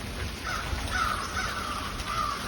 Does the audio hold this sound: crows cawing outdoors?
yes